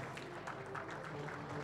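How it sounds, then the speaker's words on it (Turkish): Faint, brief applause from an audience at an athletics referees' award night as an honoree is called to the stage, thin and distant. "uluslararası hakemimiz Sayın Selahattin Yıldız alkışlarınızla sahnede"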